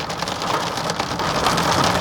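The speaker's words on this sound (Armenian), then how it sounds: "Այ քեզ անձրև։" Heavy rain pours steadily onto a moving car, a dense, loud, continuous drumming across the whole stretch with no talk.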